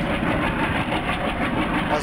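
Locomotives in the Open Rails train simulator hold a steady, loud diesel drone, a close idling rumble with no change in rhythm.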